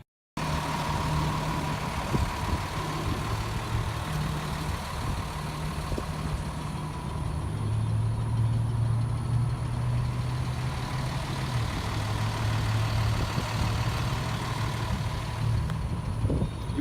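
A tow truck's engine idles steadily at a low, even rumble for the whole stretch, with a slight shift in pitch midway and no talking.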